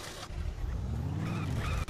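A car in the zombie game Dead Island drives along with a steady low engine rumble and a faint tire hiss, moderately loud and continuous, ending in a brief sharp click.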